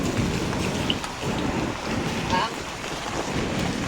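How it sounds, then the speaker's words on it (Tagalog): Typhoon Kristine storm: strong wind roaring into the microphone over crashing waves, a steady loud wash of noise throughout with no clear breaks. "Grabe yung alon, mistulang ano na dito, dagat."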